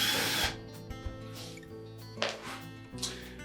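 A power driver whirs in short bursts while backing out bulkhead screws from a Whirlpool dryer cabinet, three or four brief spins separated by pauses and small clicks.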